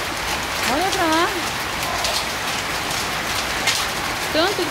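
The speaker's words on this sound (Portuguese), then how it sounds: "Tanto que tá chovendo" A heavy hailstorm with pouring rain in Ribeirão Preto, Brazil, makes a dense, unbroken roaring hiss throughout, with a person's voice speaking intermittently over it.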